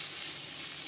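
Amla rice sizzles steadily in an oiled pan while it is stirred, a dense, close hiss that runs without a break and without any voices.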